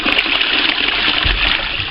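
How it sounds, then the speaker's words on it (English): A low-volume toilet cistern flushing on half flush gives a loud, close, steady rush of water throughout, with a brief low gurgle near the end. "I jacked up the water level a bit, so it's, you know, this is half flush"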